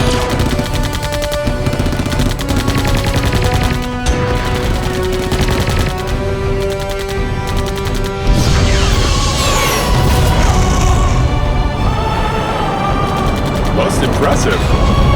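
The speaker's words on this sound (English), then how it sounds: "Don't just shoot randomly!" Gunfire in a 2007 cult sci-fi feature film, with bursts of shots and crashes running continuously under a dense music score, with voices shouting over the battle.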